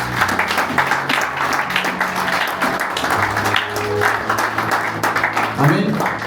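Congregation in a church breaking into sustained applause and cheering, a dense wash of clapping with voices calling out throughout.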